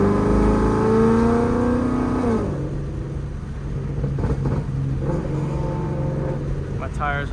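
Ford Mustang GT 5.0 V8 engine revving up, a rising engine note that drops off after a couple of seconds into a lower rumble, close and fairly loud with light background noise.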